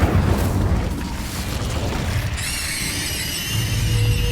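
An Incendio fire spell cast in Hogwarts Legacy, a deep booming whoosh of flame bursting out and then rumbling on, followed by high ringing magical tones, loud and close.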